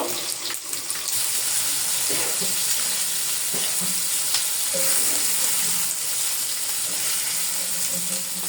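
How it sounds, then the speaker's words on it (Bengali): Steady, dense sizzling of food frying in hot oil, with faint clinks and scrapes and what sounds like running water in the background. "এই সাইডে আমার মাছগুলো ভাজা হয়ে গেছে"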